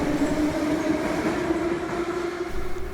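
A Moscow Metro subway train runs underground with a steady, loud rumble and a constant mechanical drone from the cars, continuous throughout with no voices.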